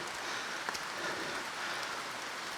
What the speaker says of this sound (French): parce que eh bien il pleut, parce que c'est la saison des pluies, donc la pluie peut arriver à tout moment